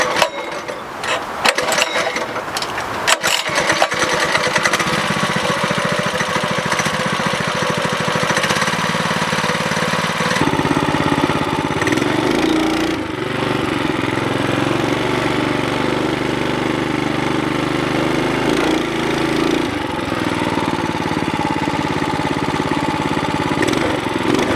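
A Coleman B200 mini bike engine with a bad vibration runs steadily and loudly throughout, a rough, rattling mechanical drone with a shift in pitch partway through and no talk over it.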